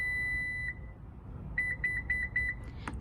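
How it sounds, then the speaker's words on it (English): One long electronic beep, then a pause, then a quick run of about six short beeps from a Lexus RX seat memory setting over a low engine rumble, ending with a click. "push and hold that same button until you hear a series of beeps"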